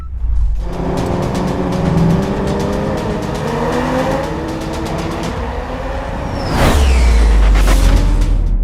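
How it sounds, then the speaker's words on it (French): Brand-new Toyota Supra race cars driven by professional drivers performing synchronized precision stunts, engines droning and shifting pitch, with a sharp passing whoosh and a louder rumbling surge near the end. "des pilotes professionnels qui font des cascades de précision, mais plutôt que des avions, ils ont des Toyota Supra toutes neuves"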